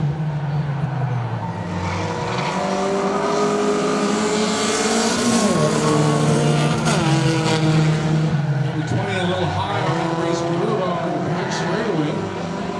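Race cars at Saratoga Speedway roar continuously around the track, engines rising and falling in pitch as they pass and accelerate, loud and close beneath a commentator speaking throughout.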